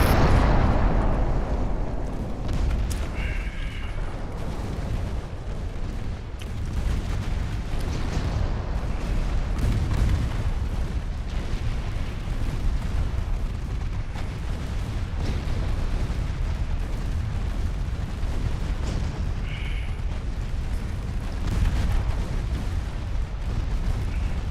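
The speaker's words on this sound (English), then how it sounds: "This last build is the torpedoes detonating quite often." Torpedoes detonate during a naval battle in the video game Ultimate Admiral Dreadnoughts. Booming blasts and rumbling explosions recur over a constant low roar of battle for about twenty-five seconds, with no voices.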